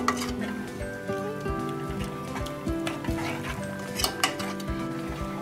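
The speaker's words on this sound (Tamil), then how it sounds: "இதை வந்து நம்ம நல்லா கிண்டி விட்டுட்டு கொஞ்சம் கொதிக்கட்டும்." Cabbage kootu being stirred in a metal cooking pot, with steady rhythmic scraping and clinking of a spoon against the pot, close and fairly loud, no voices.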